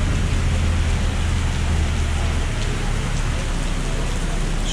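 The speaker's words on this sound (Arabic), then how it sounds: "الله على الشتا" Heavy rain pours in Cuba, a dense, steady, loud roar of falling water with a low rumble beneath, unbroken throughout.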